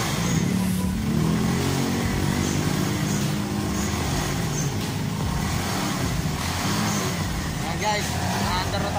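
A motorcycle engine idles and revs in a steady, loud drone with rising and falling throttle, heard close by and continuously throughout.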